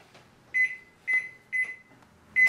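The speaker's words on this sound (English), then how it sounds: "Now we're gonna microwave that milk for 1 minute, 30 seconds." A microwave oven heating milk gives out four clear, evenly spaced electronic beeps, each a short bright tone, fairly quiet and close, with faint hum between them and no talking.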